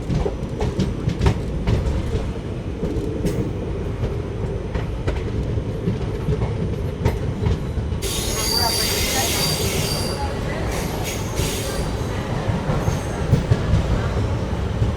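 A Hyderabad–Chennai Express rolls into Nalgonda railway station with a loud, continuous rumble and rail clatter, and a sharp high wheel squeal rises partway through, with faint voices in the background.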